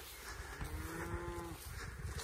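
Cattle moo in a farm field beside a haylage field, with one long, clear, steady moo in the middle of the clip over constant outdoor background noise.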